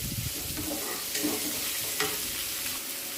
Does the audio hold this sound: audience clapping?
no